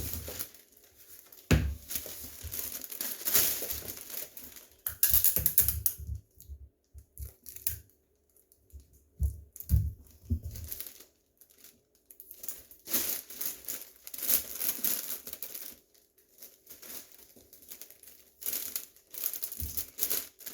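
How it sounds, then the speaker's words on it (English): Tape is wrapped snugly around a basket in irregular bursts of crinkling, rustling and sticky tearing, close up and fairly quiet, with short gaps between pulls. "then you're going to tape it snugly"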